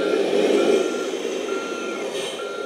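Reversing beeps from a Kabolite K3362 4x4 RC dump truck, a steady electronic tone repeating over a constant motor whine, fairly close, with no talking.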